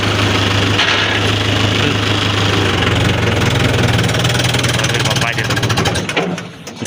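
Tractor engine idling, loud and close, with a steady low knocking throb that runs almost the whole time before fading near the end, while someone talks over it.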